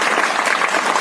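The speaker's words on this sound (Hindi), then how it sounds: "पहले तो नवनीत सर का फैंटास्टिक सेशन के लिए एक बार जोरदार ताली मैं चाहूंगा आप सबके तरफ" Loud, dense applause from an audience at a Modicare system training session in Muzaffarpur, Bihar, steady clapping filling the whole second with no talk over it.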